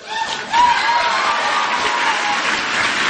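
An audience at Ron Paul's CPAC 2009 speech gives sustained applause, loud dense clapping mixed with some cheering and chuckles after a short pause, continuing steadily to the end.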